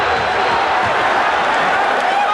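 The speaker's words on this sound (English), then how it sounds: "The crowd is on its feet here at the Forum." Loud, steady roar of a basketball crowd cheering on its feet at the Forum during Game 3 of the 1985 NBA Finals, Celtics at Lakers, a dense continuous wall of voices with no break.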